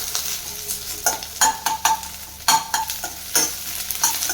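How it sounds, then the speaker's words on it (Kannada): Two medium onions frying in hot oil in a kadai, with a soft sizzle broken by repeated scraping stirs of a spoon at an uneven rhythm, close and without talking. "2 ಮೀಡಿಯಮ್ ಸೈಜ್ ಈರುಳ್ಳಿ ಕಲರ್ ಚೇಂಜ್ ಆಗೋವರೆಗೂ ಫ್ರೈ ಮಾಡ್ಕೊಳ್ಬೇಕು."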